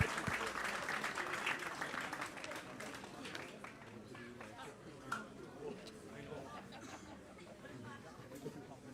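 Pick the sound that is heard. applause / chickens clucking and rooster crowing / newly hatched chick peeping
applause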